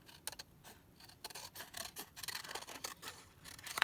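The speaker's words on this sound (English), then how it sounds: "I'm just going to do a quick cut around" Paper being fussy-cut with scissors around a shape: a quick run of close, crisp snips and rustles, irregular and fairly quiet, with no talking.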